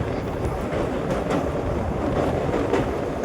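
A passenger train heading over Pamban island toward Rameswaram rolls with a continuous loud rumble and faint clickety-clack of wheels, heard from on board throughout.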